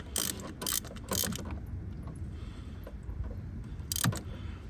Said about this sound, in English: now I'm gonna use a wrench